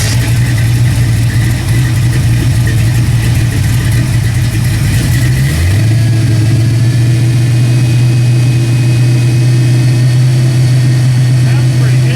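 A Fox Body Mustang engine with its choke not hooked up runs loud and close, a steady idle that dips and settles into a lower, even drone partway through.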